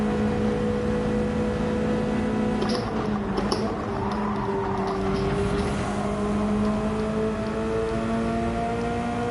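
BMW race car engine droning at high revs during a circuit race, a steady buzzing tone that shifts pitch with gear changes partway through, loud and continuous, with no talking.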